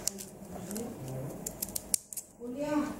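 Scissors cut a palm leaf with several sharp, crisp snips and rustles, heard close up beneath a person speaking.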